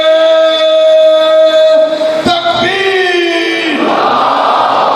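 At an Eid Mubahila gathering at an imambara, a single loud voice holds a long sustained call, then a crowd bursts into shouted religious slogans in response, close and forceful.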